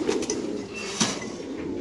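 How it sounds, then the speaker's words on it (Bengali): Pigeons at a pigeon market coo softly in a brief, close burst, with a low throaty warble over faint background bustle. "46 নাম্বার কবুতরের কাছে একজোড়া কবুতর আছে"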